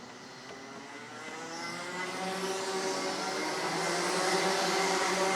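Stock Honda shifter racing karts roll onto the grid at a US Open kart race in Las Vegas, engines droning and building steadily in volume as the pack approaches, a continuous layered buzz with no talk.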